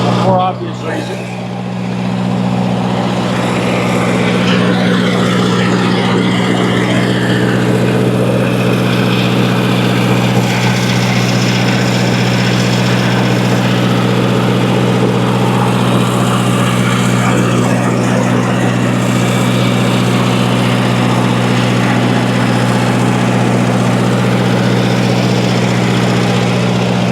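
An old Lindsay air compressor runs with a steady, loud, low mechanical hum and strong droning tones, continuous and close throughout.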